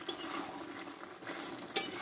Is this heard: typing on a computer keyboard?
no